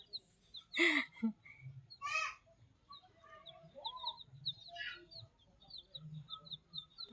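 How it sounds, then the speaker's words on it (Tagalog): Backyard chickens cluck and give short squawks near the coop, with bursts of louder calls scattered over a quiet background and faint voices talking in between. "Ito yung bagong isa na manok ko."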